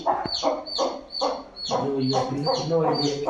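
Hen clucking close by near the spot where it laid its eggs, a series of short repeated clucks with bird calls layered over a steady background.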